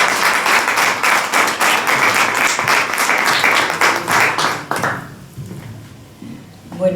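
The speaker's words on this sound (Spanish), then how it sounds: "para quien les pido un fuerte aplauso." An audience at a poetry book presentation gives a speaker strong applause, dense clapping that stops abruptly after about five seconds, leaving a quiet room and a brief voice.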